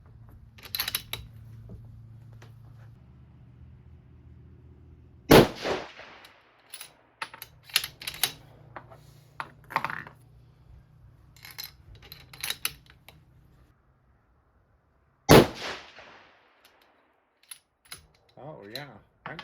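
A 6.5 PRC rifle firing 140-grain Berger hunting bullets, with two sharp, loud shots spaced about ten seconds apart, separated by clicks, handling noises, a low hum and bursts of talk.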